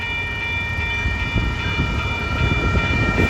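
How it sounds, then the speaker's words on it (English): An eastbound Amtrak train passes on track 1 at Macklind Avenue, a loud steady rumble of wheels and cars with a faint ringing tone riding on top and no talking. "Oh, eastbound Amtrak."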